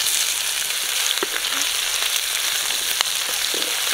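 Crushed garlic frying in hot oil in a pan for banana stem rasam, a steady dense sizzle throughout with occasional small pops and crackles, close and continuous.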